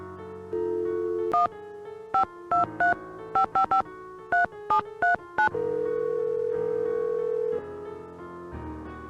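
A telephone is dialed in the Nancy Drew video game Message in a Haunted Mansion: a steady dial tone, then a quick series of about a dozen short touch-tone beeps, followed by a ringback tone.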